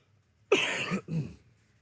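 A person coughs twice in quick succession, close and fairly soft, with a short gap between the two bursts and quiet before and after.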